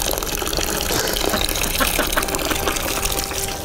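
Mike's Hard Lemonade pours steadily into a batch of pink lemonade jungle juice, a continuous close splashing gush of liquid with no talking.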